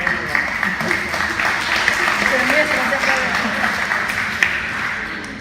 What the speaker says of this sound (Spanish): ese es Miguel Ángel Martín, ahora sí podéis aplaudirle